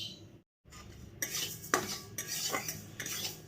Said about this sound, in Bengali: মুগ ডাল যেহেতু নেব একটু, সেটাকে একটু রোস্ট করে নিই